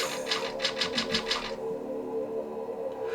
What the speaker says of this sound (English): the clicking noise for Raccoon Forest, that cadence, that rhythm